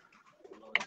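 Sialkoti Medical breed pigeons, the rare black-faced kind, give a short coo at a live bird show, a soft murmur swelling into a brighter burst near the end.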